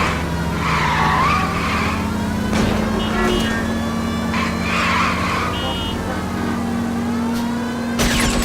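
Car tires squeal and skid in a video game car chase, a loud continuous screech over steady engine drone, with shouted voices and brief impacts; a final burst of noise near the end.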